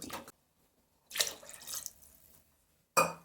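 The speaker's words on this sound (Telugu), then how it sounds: "ఇంకా కొన్ని నీళ్ళు పోసుకుందాం." Water poured into a pot of sambar made with bottle gourd, in three short splashing bursts separated by silence, close and fairly quiet.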